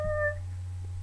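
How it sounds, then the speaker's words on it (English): A pet cat gives a single short, close meow at the start, followed by quiet room hum. "This is my kitty cat."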